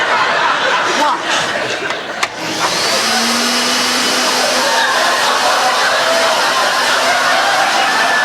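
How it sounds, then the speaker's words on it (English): Vacuum slacks, trousers that suck like a vacuum cleaner, give off a loud, steady broadband whoosh with a faint whine. The sound runs continuously after a brief dip and a sharp click near the start. "They're called vacuum slacks. It's supposed to inhale all the fat from your body."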